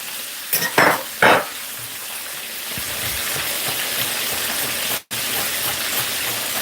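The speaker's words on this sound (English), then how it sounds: "So because this oil is a little bit deeper, I'm just gonna put some of these in. Kind of fry them dry." Garlic chicken pieces fry in fairly deep oil, a steady loud sizzle with a couple of sharper bursts near the start as pieces go in, then a constant crackling hiss.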